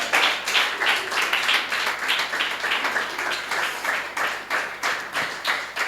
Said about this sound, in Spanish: damos aplauso al Señor